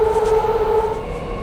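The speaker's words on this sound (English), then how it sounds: "And here comes our train." A BART Yellow Line train pulls into a station toward SFO, giving off a steady high whine with sustained tonal hums over a low rumble, loud and close, with no talking.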